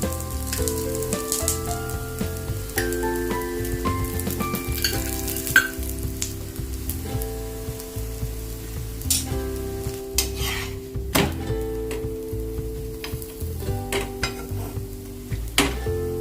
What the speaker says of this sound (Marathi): दुसऱ्या साईडने पण तेल सोडूया मध्यम ना असं खमंग भाजून घ्यायचं